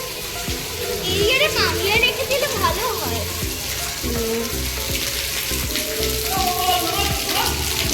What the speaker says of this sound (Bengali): বৃষ্টির জলগুলো পড়ছে